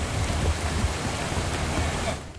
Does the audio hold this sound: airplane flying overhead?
no